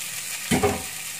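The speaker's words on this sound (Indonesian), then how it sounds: "Ini kecombrangnya, kita aduk sebentar." Chili and torch ginger (kecombrang) are stirred in hot oil in a pan, giving a soft steady sizzle with a brief scraping stir near the middle.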